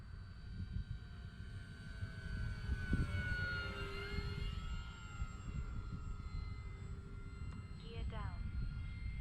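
E-flite F4U-4 Corsair 1.2 m RC airplane in flight, a thin electric motor whine sweeping up and down in pitch as it passes, over outdoor wind noise with people talking nearby.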